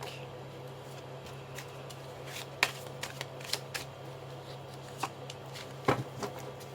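Tarot cards are shuffled quietly and close by, with soft riffling and sharp slaps and snaps of the deck against a low steady hum.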